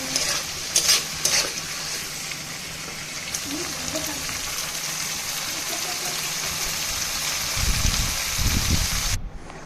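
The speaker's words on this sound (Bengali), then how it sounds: "এখন মশলাটা কষিয়ে নেব।" Spice masala fries and is stirred with boiled potatoes in a pan for aloo paratha, a steady close sizzle with scraping stirs and a few louder clatters near the end.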